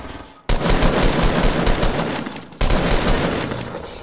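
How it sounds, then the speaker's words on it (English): Rapid automatic gunfire in the video game Fortnite, two long loud bursts of fast repeated shots with a brief pause between them, close and dominant with no talk. "More gunshots."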